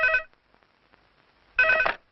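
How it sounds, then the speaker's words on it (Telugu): A telephone bell rings in two bursts, one short ring at the start and a longer one after a pause of about a second and a half, clear and close with near silence between. "అదిగో ఆయన ఫోన్."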